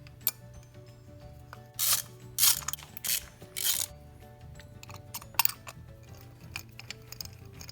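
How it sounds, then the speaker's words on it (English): Spark plugs being unscrewed and threaded back in on an Audi engine, with a few close ratcheting and scraping bursts from the tool at irregular intervals over a low steady hum. "Now we'll pull out the old ones and put in the new ones."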